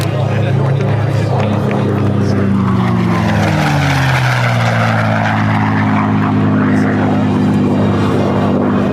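An aircraft roars past at the Aviation Nation air show at Nellis Air Force Base, with a loud, sweeping engine drone that shifts in pitch as it passes. An announcer talks over it throughout.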